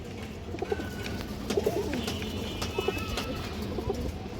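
Pigeons give short, throaty coos in a few separate bursts, fairly close and quiet, against a low steady background hum with occasional faint clicks.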